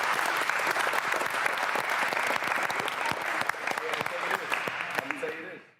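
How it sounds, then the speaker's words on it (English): A group of campers at a basketball camp clap together in a brisk, dense burst of applause nearby, holding steady for several seconds before quickly tapering off. "I want you guys to clap it up for yourselves right now."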